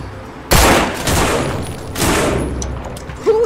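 Gunshots in the zombie survival video game No More Room in Hell ring out as several loud, sharp bursts of gunfire close together, each leaving a rough echoing tail.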